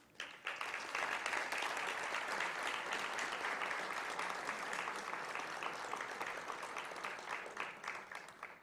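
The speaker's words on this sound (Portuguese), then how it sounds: "Professor doutor Francisco Pedro Jucá, o qual convidamos para receber a justa homenagem desta noite e os nossos aplausos." An audience at a formal award ceremony honoring a professor breaks into sustained, even applause, many hands clapping together from a moderate distance and tapering slightly toward the end.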